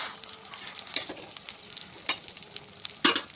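Eggplant fries in a pan, a constant close sizzle punctuated by several sharp bursts of spattering and stirring scrapes.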